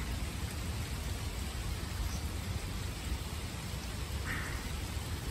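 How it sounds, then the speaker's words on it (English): Steady, hissing downpour of heavy rain mixed with small hail during a severe thunderstorm, a continuous even wash of noise with no voices. "It is raining with hail."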